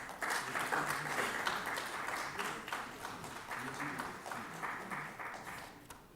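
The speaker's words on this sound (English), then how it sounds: "A huge round of applause, please." Conference audience applauding after a speaker is introduced at a weed management brainstorming meeting, a dense steady wash of many hands clapping that fades slightly toward the end, with no talk over it.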